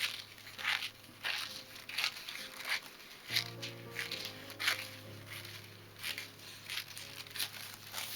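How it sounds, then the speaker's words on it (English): Paper being cut in half for a handmade one-signature journal, steady crunchy snips and rustles close by over a faint steady hum, with no speech. "So what I will do is going to cut that in half."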